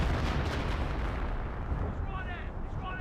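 A creeping artillery barrage in Company of Heroes, with loud, dense rumbling shell impacts and explosions rolling together, then a few sharp whistles of incoming rounds near the end.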